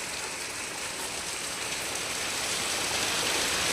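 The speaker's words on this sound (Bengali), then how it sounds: "অঝোরে বৃষ্টি" Heavy rain pours down steadily on a flooded street, a dense, even hiss that stays loud and unbroken throughout with no voices.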